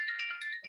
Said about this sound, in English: that's the disadvantage of having a phone connected to telephone